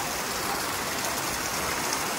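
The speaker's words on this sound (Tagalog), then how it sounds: "At umuulan." Steady rain falls in Siargao, a dense, even hiss of drops with no break and no voices.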